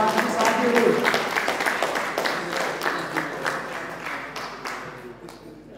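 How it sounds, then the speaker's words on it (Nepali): Audience applause fills a council meeting hall during an oratory competition and felicitation event, a dense wash of clapping that is strongest at first and slowly thins and fades toward the end. "जोरदार ताली बजाइदिनु"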